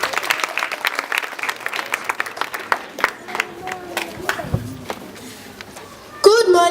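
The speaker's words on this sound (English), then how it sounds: "Can we have Jemima Chibambe with a warm round of applause?" Audience at a school speech contest breaks into warm applause, a steady run of many hands clapping that gradually thins out and fades toward the end.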